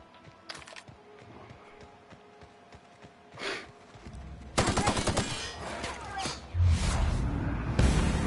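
Rapid automatic gunfire from The Outer Worlds bursts in loud, dense volleys. A few sparse shots and clicks come first, then sustained firing erupts for the last few seconds.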